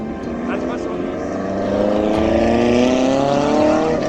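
An Alpine racing car climbs a mountain hill-climb road near a waterfall, its engine note rising steadily as it approaches, loud and droning under a voice talking.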